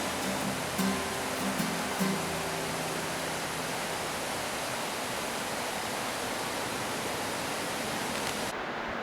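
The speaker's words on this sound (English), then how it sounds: "Hope you can see the waterfall behind me." The waterfall at Starvation Creek: a constant, dense hiss of falling water heard close and alone, with faint tonal hum in the first seconds and no speech.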